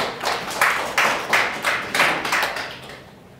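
A congregation at a Christmas church service claps in a steady rhythmic beat, about two claps per second, moderately loud and unaccompanied by talk.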